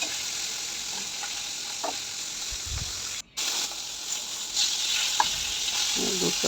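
Hilsa fish tails frying until crisp give a constant hissing sizzle in hot oil with occasional stirring scrapes, fairly loud and close, with a brief dip partway through; no talking.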